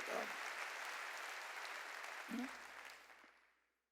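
Sustained applause from a large church congregation, steady and full, gradually fading out toward the end.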